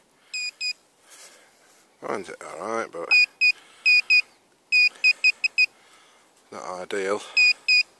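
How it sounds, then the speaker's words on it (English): Cheap fake pro pointer metal detectors used in the woods give short, sharp electronic beeps in quick repeated bursts, close and loud, with a person talking briefly between the bursts. "Let me just show you these fake pro pointers. Beeping."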